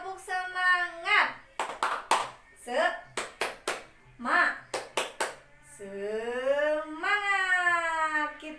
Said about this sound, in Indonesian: kita tepuk-tepukan dulu Ibu yuk. Iya, tepuk semangat.